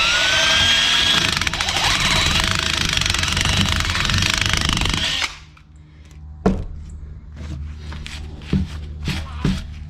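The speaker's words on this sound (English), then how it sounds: "Listen, look, it's a drill." A power drill whirring loudly at close range inside a Sprinter van while transit-seat L-track is being fitted; the steady whine lasts about five seconds, then stops, followed by scattered knocks and clunks.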